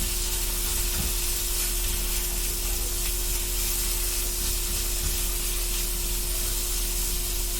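Sausage meat and potatoes sizzle steadily in a hot pan for a breakfast dish, a continuous loud frying hiss with a few faint clicks and no talking.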